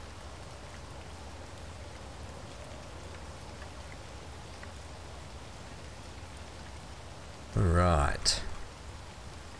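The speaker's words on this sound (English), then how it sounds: "Oh, look how rainy it is. It is so dismal." Steady rain falls in the Space Engineers video game, a continuous even patter throughout, with a person speaking briefly over it and a louder burst of noise near the end.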